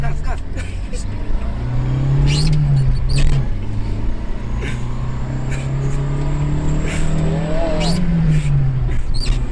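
A Yugo 45 car engine revs and accelerates, its pitch rising and falling through gear changes in a continuous drone heard from inside or nearby, with occasional voices and knocks over it.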